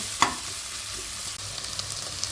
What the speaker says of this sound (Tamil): வெங்காயம் நல்லா வதங்கிட்டு பொன்னிறமாக வதங்கிட்டு